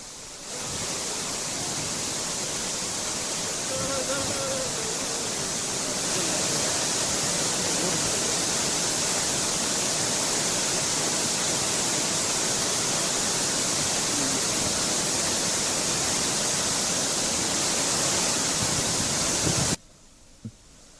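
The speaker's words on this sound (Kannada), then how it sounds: "ಹೊನ್ನಮ್ಮನ ಹಳ್ಳ ಫಾಲ್ಸ್ ಕೂಡ ಮೈದುಂಬಿ ಹರಿತಾ ಇದೆ" A loud, constant roar of water crashing down Honnammana Halla falls in full monsoon flow, unbroken and close, cutting off abruptly near the end.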